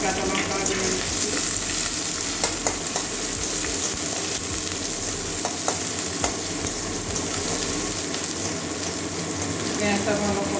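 Onions with green chilli fry in a pan for a fish-head and papaya curry, a steady close sizzle with faint stirring clicks and occasional soft background noises.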